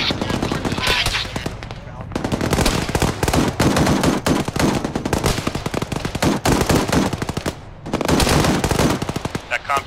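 An armed vehicle in the military game Arma 3 fires its weapon in rapid, loud bursts of automatic gunfire that repeat across the clip with short pauses between volleys.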